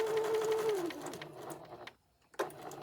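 A sewing machine back stitching a seam on a memory bear, its motor whirring steadily and close, then a brief pause before the stitching resumes.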